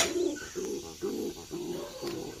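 An injured young pigeon cooing softly in repeated low throaty pulses, about five in a row, close and quiet with no talking.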